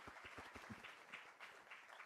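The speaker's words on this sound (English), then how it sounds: "Just a round of applause from the audience" Quiet, distant audience applause at a foundation day ceremony during a memento presentation, with individual claps audible in a loose, uneven rhythm.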